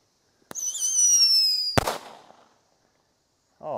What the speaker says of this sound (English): we got a five-shot Roman candle here